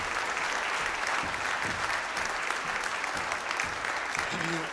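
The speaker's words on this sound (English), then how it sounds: "So let's give a big round of applause to all those people that help make these nights so good." Steady audience applause at a silver band concert in a church venue, dense even clapping from a full hall at moderate volume, continuing unbroken with a brief tonal blip near the end.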